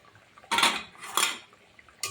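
A spoon scrapes and clanks against a metal cooking pot while spice paste is stirred into a hilsa fish curry with mustard and poppy seed, three short bursts of scraping with quiet gaps between.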